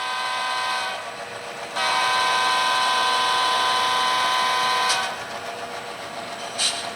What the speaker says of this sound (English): I'll honk the horn over here for any vagrants hanging out in the woods.